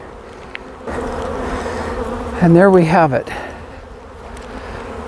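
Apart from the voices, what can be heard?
bees buzzing at the front of a hive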